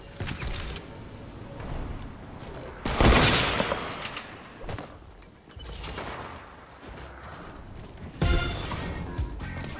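Gunfire in a video game comes as scattered bursts and single loud shots with mechanical clicks and rattles between them, some shots sharp and close, others duller.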